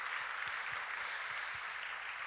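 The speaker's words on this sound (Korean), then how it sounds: "박수하겠습니다." Audience applause at an indoor gathering honoring missionaries, a steady wash of many hands clapping throughout, moderately distant and even in level.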